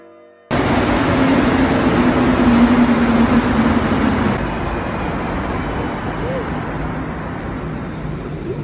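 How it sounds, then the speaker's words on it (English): A train in Montreal roars past close by, a loud steady rumble and hiss that eases slightly after a few seconds but stays strong, with a faint high squeal at times. "Now this is the train, and listen how loud it is."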